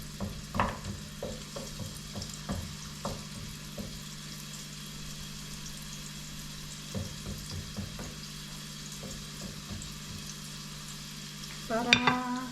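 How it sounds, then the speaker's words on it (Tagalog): Beef for caldereta fries in a pan with a steady sizzle, broken by stirring scrapes and clicks, then louder bursts of sizzle right at the end; close and fairly quiet, with no talking. "Yan, paprituhin muna natin yan."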